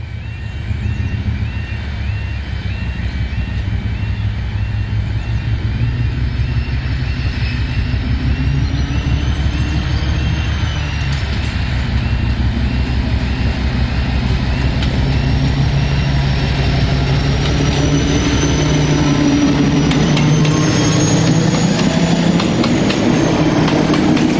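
Diesel locomotives 56098 and 057 haul a train past, a loud sustained engine drone with rail clatter and a rising squeal, steady and close for the whole stretch, with no voices.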